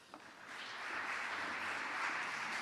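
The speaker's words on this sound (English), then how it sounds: "a big round of applause for you" Conference audience at an HbbTV symposium applauds a speaker being welcomed on stage, a soft, distant wash of clapping that swells and then holds steady.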